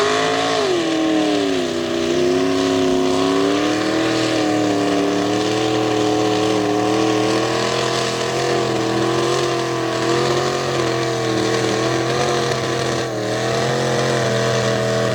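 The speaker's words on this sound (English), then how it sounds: "About to churn some serious mud." A stock-class tough truck's engine roars continuously as it churns through a mud course, the pitch wavering up and down with throttle changes, loud and sustained throughout with no talk.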